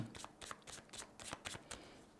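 Playing cards are shuffled in a quick riffle, producing about eight crisp, fluttering bursts in steady rhythm, close and fairly quiet, with no voices.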